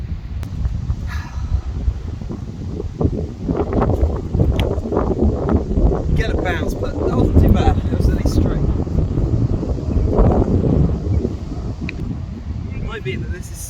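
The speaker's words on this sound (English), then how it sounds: "so windy that you just can't hear anything I'm saying, and it's like really blustery and annoying" Heavy, gusty wind buffeting the microphone with a constant rumbling roar throughout, loud and close, with no clear voices standing out.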